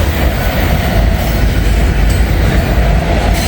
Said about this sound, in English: And this is a big train too.